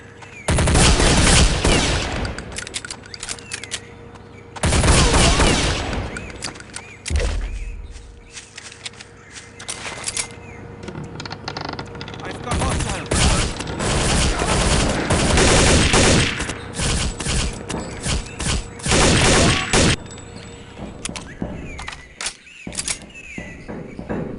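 Dense bursts of automatic rifle fire and fusillades from AI firefights in Counter-Strike: Condition Zero Deleted Scenes, loud and nearly continuous with brief gaps, mixed with footsteps and game effects.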